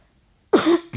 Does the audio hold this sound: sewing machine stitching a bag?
no